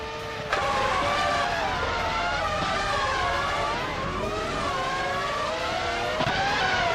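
Video game race cars drone loudly at high revs with sweeping pitch changes and brief tire skids, engines layered close together and running without pause.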